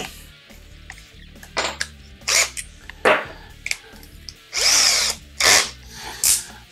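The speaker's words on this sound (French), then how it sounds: "Position perçage." Power drill boring into wood with a 4 mm wood bit while building inexpensive furniture, several short bursts of whirring interrupted by brief pauses and small handling clatter.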